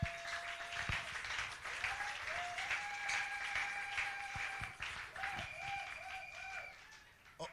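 A church congregation applauds at an evangelistic campaign service, sustained clapping filling the room steadily with a few sharper claps, with faint sung or sustained tones carrying over it.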